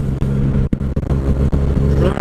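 A Yamaha MT motorcycle engine runs steadily on an icy mountain road in Europe, a close, continuous low drone with brief dips and surges in the throttle.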